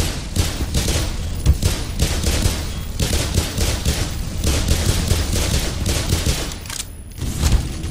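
Heavy .50 cal machine gun firefight in the video game Black Mesa, dense sustained automatic fire and rattling bursts filling the whole stretch, loud and close, with a brief dip before the shooting resumes.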